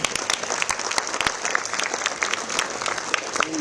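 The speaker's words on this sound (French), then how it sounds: "Mesdames, messieurs, ça ne mérite pas des applaudissements" Enthusiastic applause from a crowd at a cycling tour presentation in Guadeloupe, dense clapping that holds steady throughout at close range.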